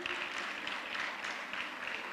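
Dense, steady applause from a crowd, continuous clapping filling the whole moment with no pauses.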